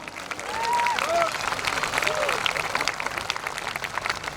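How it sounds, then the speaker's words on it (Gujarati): A crowd applauds a women's group at a Brahma Samaj youth wing celebration of Parshuram Janmotsav in Bhuj, sustained clapping over a room's murmur with a few faint voices mixed in. "જોરદાર તાળીઓથી વધાવી લઈએ આપણી આ વિરાંગના મંડળને"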